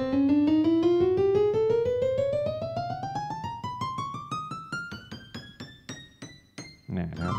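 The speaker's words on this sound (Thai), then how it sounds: "อันนี้เป็นเสียงเปียโนนะครับ" Piano voice on a Casio LK-280 electronic keyboard, a single tone per note in a rising scale played up the keys, starting smooth and becoming more clearly separate plucked notes toward the top, fairly quiet, no talking.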